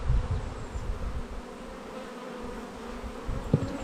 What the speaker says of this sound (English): I've got wasp. I'm trying to keep the wasp away.